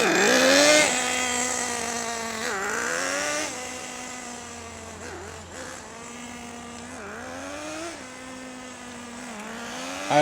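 A Traxxas Jato 3.3 nitro RC car engine being broken in on a cold day runs loud and close with a buzzy, high-pitched whine that climbs and dips in repeated revs.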